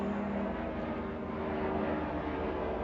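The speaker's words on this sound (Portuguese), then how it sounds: "O helicóptero passando..." A helicopter passes overhead, a steady low mechanical drone with a constant tonal hum that holds level throughout, heard without anyone talking.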